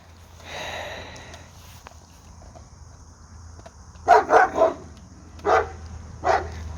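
A few sharp dog barks ring out in a quick cluster, then two more single barks follow, set against quiet outdoor background with a sniff earlier.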